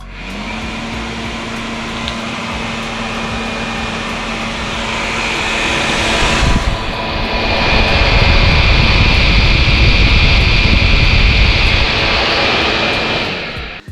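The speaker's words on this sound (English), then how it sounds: "Cooling fan has a fairly busy job, coming on its own even when the engine is completely switched off after a spirited ride." The radiator cooling fan on a Kawasaki Z1300 motorcycle runs on its own with the engine switched off after a hard ride, producing a loud, steady whooshing whir that swells slightly partway through and holds close by until the end.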